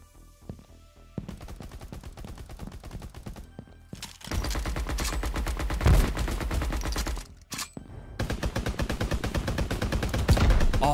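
Rapid gunfire in the Mini Royale battle royale game, dense bursts of automatic shots with short pauses between them, loud and continuous through most of the stretch.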